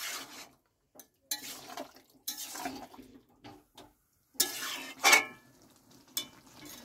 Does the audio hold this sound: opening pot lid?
yes